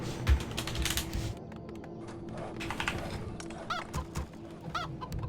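Chickens clucking in the Warcraft 3 Reforged strategy game, several short clucks heard alongside close computer keyboard typing and mouse clicks.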